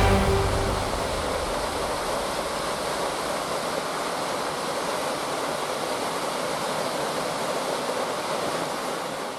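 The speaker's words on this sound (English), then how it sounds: "we just came from behind that waterfall" A waterfall on a rainforest hiking trail roars close by, a dense, steady rush of falling water filling the scene without pause.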